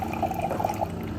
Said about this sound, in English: pour out our water from DC Life Promax, instant production